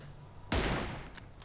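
One sharp, close gunshot in the New State shooting video game stands out against a quiet background, followed by a decaying tail and a couple of fainter, more distant shots.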